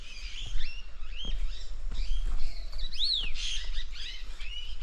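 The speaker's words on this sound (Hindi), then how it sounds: "ये साथियों देखें कितने सारे तोते हैं," A flock of parrots calling while feeding on fruit in Mukteshwar: many shrill, overlapping squawks and chirps in quick succession, loud and close, with no voices.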